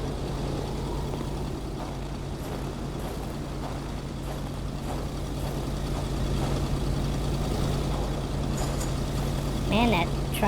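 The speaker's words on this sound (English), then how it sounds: "Man, that truck is loud as hell." A loud truck engine in the video game Kona rumbles steadily and continuously at close range, with a voice briefly heard near the end.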